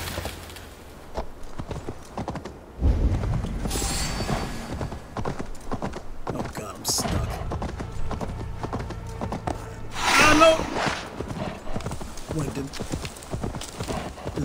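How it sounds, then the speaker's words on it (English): Horse galloping in the video game Dawn of Ragnarok, rapid hoofbeats running throughout under game effects, with a voice talking over it. "No, I think my horse is immune to fire damage."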